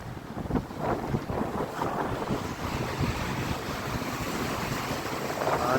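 Ocean waves surge at a river mouth on a beach, a continuous rushing surf roar with strong wind buffeting the microphone, swelling in irregular pulses, no voices.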